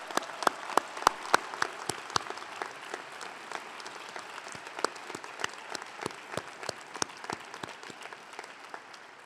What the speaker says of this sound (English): Would the graduating students please join me in a round of applause to honor these very special people?